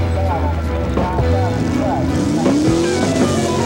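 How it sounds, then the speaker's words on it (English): Ford-powered hot rod truck mud racing, engines roaring loud and continuous with pitch sweeps as trucks rev and accelerate, a voice talking over the din. "Hot rod truck mud racing, fast, dangerous, and dirty. The Ford-powered Shag Nasty"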